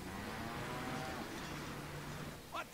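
A cow moos in a long, low drawn-out call in the Deadpool video game, sounding fairly distant under a constant game background noise.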